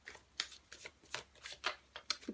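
Tarot and oracle cards being shuffled and drawn from a deck, heard as a series of soft, close riffling swishes and snaps at an uneven pace in a quiet room.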